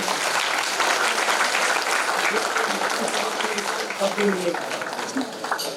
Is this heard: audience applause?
yes